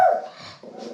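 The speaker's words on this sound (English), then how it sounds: "Apologies for Finley doing his guard dog duty there" A pet dog guarding the house gives a single loud, close bark, trailing off into a short low growl or whine.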